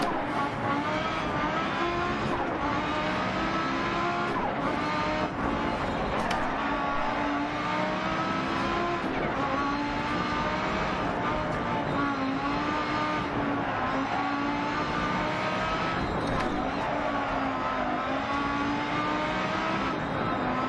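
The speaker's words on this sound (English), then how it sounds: "Gotta love the sound of this Audi." An Audi rally car engine in the video game Dirt Rally drones continuously at high revs on a hill climb, rising and falling with gear changes and throttle, with occasional tire noise.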